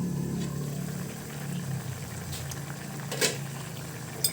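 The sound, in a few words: pork curry simmering in a covered pot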